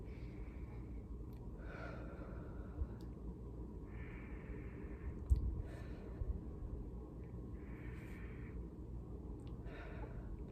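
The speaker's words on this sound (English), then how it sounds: "taking a few deep breaths" Slow, deep breaths taken during a calming heart-focused relaxation exercise, each soft, breathy exhale coming close and steady, roughly every two seconds, with no talking.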